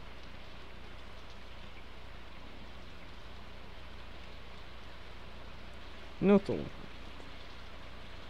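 Steady rain from the video game Stardew Valley falls without a break as an even soft hiss, and a short word is spoken partway through.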